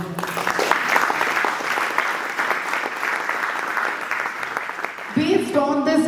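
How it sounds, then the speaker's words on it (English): Audience at a talk in Tampa breaks into sustained, even applause, moderately loud, with a voice speaking over the end. "Please clap for them."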